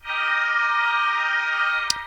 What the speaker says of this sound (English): obnoxious sounding synth